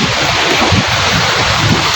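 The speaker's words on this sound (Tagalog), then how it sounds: "Grabe lakas ng alon." Strong sea waves crashing close by, a loud continuous roar of surf churning over stones and sand, mixed with heavy wind buffeting the microphone.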